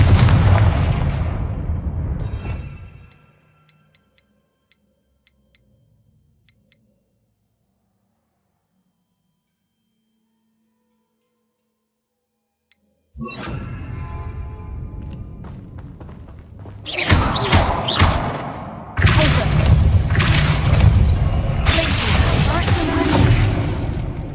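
A Confringo blasting spell in the Hogwarts Legacy video game bursts out as loud booming, gunfire-like blasts, with a long near-silent gap followed by repeated heavy explosions and crackling debris.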